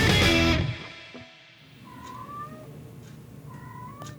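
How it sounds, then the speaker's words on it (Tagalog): A burst of loud noise fades, then a cat meows several times in quick succession, moderately close and fairly distinct against a quiet background. "Ngayon talaga nag-iingay yung mga pusa."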